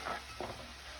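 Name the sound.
ginger garlic chili coriander paste sautéing with onion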